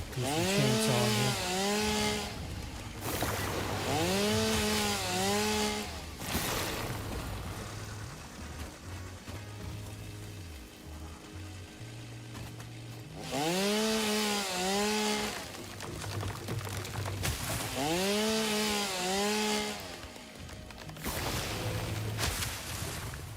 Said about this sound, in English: gonna do some chainsaw here.